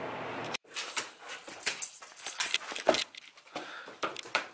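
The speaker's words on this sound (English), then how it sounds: "All these dogs everywhere, all these animals." Dogs moving around indoors, with scuffling, jangling tags or keys and a faint whimper or yip among busy rustling, close and fairly loud with no clear speech.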